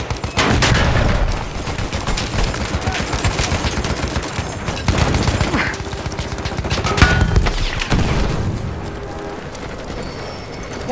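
Battlefield 1 combat erupts into loud bursts of rapid gunfire and a heavy explosion close by. Sharp shots and rattling volleys come in uneven clusters, and hoofbeats and other battlefield noise run beneath them.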